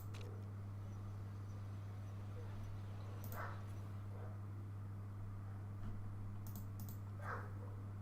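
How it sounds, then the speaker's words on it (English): Dogs bark faintly in the distance, two or three short, far-off yelps separated by several seconds, over a steady electrical hum and quiet room tone. "I wish those dogs would shut up"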